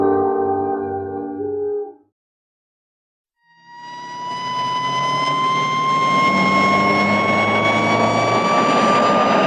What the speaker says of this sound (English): Squad cars.